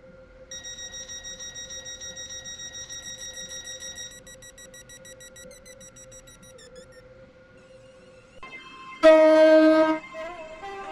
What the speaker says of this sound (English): The train now approaching platform 7 terminates here.